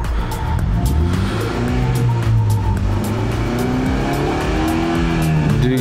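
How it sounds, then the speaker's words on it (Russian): A 2020 BMW X3 engine runs steadily and loudly, a low droning hum that rises and falls slightly in pitch, with no talking. "Двигатель работает отлично."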